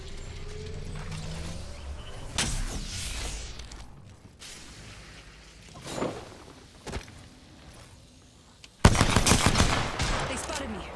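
Gunshots crack in a video game firefight, scattered sharp reports over a busy background, closing with a loud burst of rapid fire near the end.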